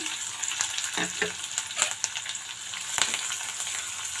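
Cashews and slit green chillies fry in hot oil in a pan for carrot rice, a steady close sizzle with a few brief stirring scrapes and pops, no voices.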